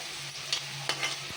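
Potato, onion, capsicum and beans stir-frying in a pan, a soft steady sizzle with a few brief scrapes and clinks of a spoon, no talking.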